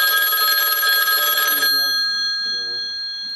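A telephone bell rings loudly for about a second and a half, a bright sustained electronic trill that cuts off, followed by a quieter tonal tail, heard near a sewer inspection at a house in Independence, Missouri.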